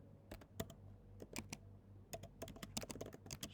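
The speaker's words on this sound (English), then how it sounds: "So let's type that." Keys rattle on a computer keyboard in quick, uneven bursts of clicks with short pauses between, close and fairly quiet over a low steady hum, with no voices.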